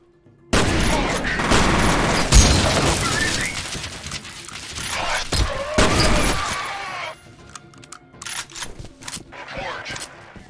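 FEAR video game combat bursts in with rapid gunfire and explosive cracks, loud and dense for several seconds before thinning into scattered shots and impacts.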